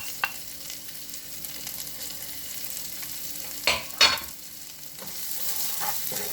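Vegetables sautéing in garlic-flavored oil in a skillet make a low, steady sizzle with a few louder scraping stirs near the middle, close by and without talk.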